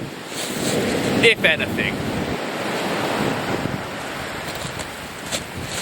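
Strong wind buffets the microphone on a UK shingle beach at Seaford Bay during a fishing session, a loud steady roar mixed with surf, and someone speaks briefly over it.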